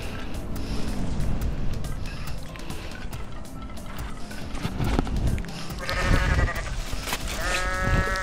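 A goat in Goat Simulator bleats in a few wavering cries toward the end, over a noisy game background with bumps and rumbles.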